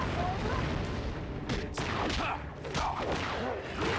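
Gunfire in the superhero action video game Justice League Heroes: a dense, continuous barrage of bursts and booms with sharp transient cracks, mixed with game effects and loud throughout.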